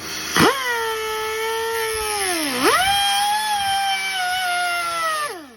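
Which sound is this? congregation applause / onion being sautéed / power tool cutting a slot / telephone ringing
power tool cutting a slot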